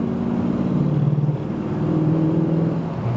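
A 1972 Chevelle's V8 builds revs as its four-barrel carburetor opens up, a steady, loud, close rumbling drone rising through the gears with no talk over it.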